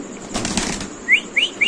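White pigeons flap their wings in a short, loud burst inside a cage, followed by a few quick high chirps.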